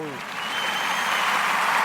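Audience clapping for Sister Navita at a show, rising from a short tonal sound into steady, fairly loud applause that fills the brief moment.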